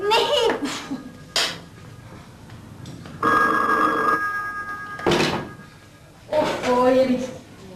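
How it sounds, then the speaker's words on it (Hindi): A telephone rings in short bursts with pauses between, close and clear, alternating with voices and laughter. "फोन की घंटी सुने, फिर आगे खा लेंगे।"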